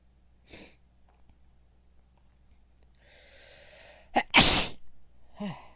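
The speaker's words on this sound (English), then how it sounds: "Told you I need to sneeze." A sharp, loud sneeze bursts out after a quiet stretch with a faint intake of breath, followed by a brief sniffle.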